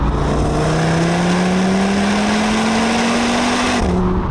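An Audi RS Q3 crossover's engine and exhaust pull hard under acceleration, the loud, close engine note rising steadily in pitch before dropping sharply at a gear change near the end.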